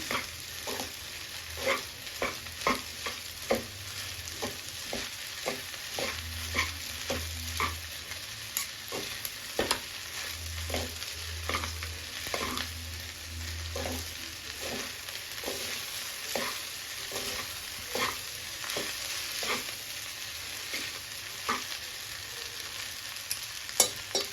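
Spoons steadily toss and mix vegetable noodles in a pan, with a continuous frying sizzle and a quick run of clicking, scraping strokes over almost half a minute, close and fairly loud, with no voices.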